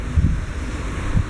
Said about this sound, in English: it's now beautifully cool and breezy